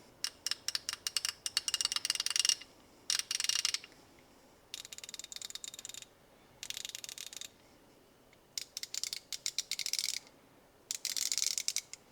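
Gearwrench 120XP ratchets clicking in turn, each burst a fast, bright run of fine ratcheting clicks lasting a second or two, separated by short pauses, close and clear with no talking.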